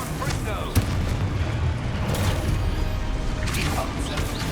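Explosive blasts from the Confringo fire spell in Hogwarts Legacy, a dense barrage of booming impacts amid constant combat noise, with a person talking over it.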